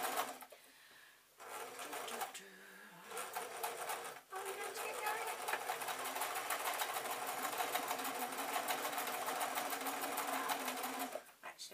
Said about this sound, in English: I am going to use this lovely double zigzag stitch to seam the end of the fabric